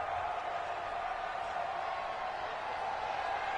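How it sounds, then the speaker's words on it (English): A home crowd in a football video game roars after a game-winning kick, a dense, steady wash of cheering that holds at an even level throughout, with no distinct voices standing out. "And this home crowd is in a frenzy as their guys have pulled it out of the end"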